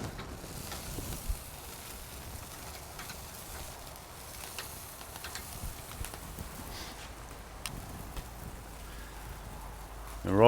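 Bone-in ribeye steaks searing on an SNS Travel Kettle grill, a steady close sizzle with scattered pops and crackles running through.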